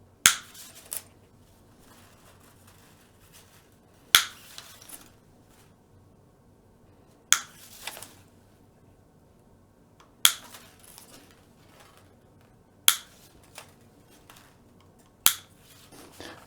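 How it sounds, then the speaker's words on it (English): Guitar strings are cut one after another, each snip a sharp, close metallic click with a brief ringing tail, spaced a few seconds apart about six times. "now you can cut the strings"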